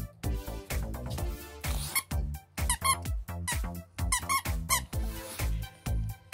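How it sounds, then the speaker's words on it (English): A squeaky puppy toy for a French Bulldog is squeezed again and again, producing loud, close, high-pitched squeaks in quick irregular bursts with short silences between them. "It's got a squeak in it."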